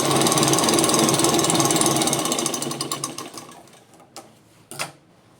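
A sewing machine stitches a zip into fabric, running fast and loud for about three seconds before slowing and fading, followed by a couple of short mechanical clicks.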